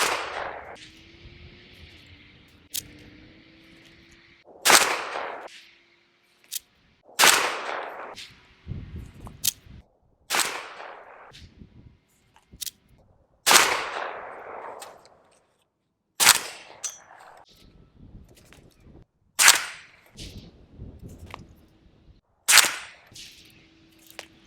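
A Bowers Group VERS 375 silencer is tested on firearms such as an AK with subsonic ammo, an MP5 and a 300 Blackout. About nine sharp, muffled gunshots crack out one at a time, each a couple of seconds apart, with short echoing tails.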